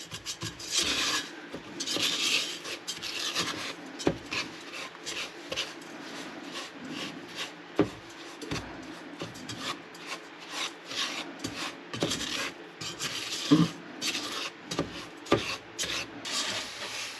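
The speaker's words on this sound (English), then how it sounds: "You see how sugar is melting? See, so you want to stir it." A silicone spatula stirs melting sugar in a pan for millionaire's shortbread, giving close, repeated rasping and scraping strokes in an irregular rhythm, with no talking.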